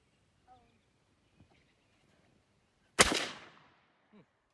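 A 5.25-pound Mossberg Maverick 88 Bantam youth shotgun fires a single 3-inch magnum shell, one loud, sharp blast with a decaying tail, standing alone after a few faint quiet knocks.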